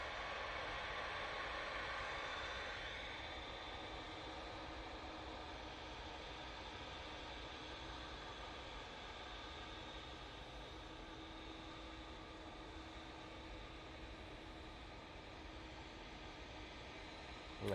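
A TUI Boeing 787 Dreamliner at Manchester Airport gives a steady, distant jet engine roar that stays fairly constant throughout, heard as a broad hiss from afar.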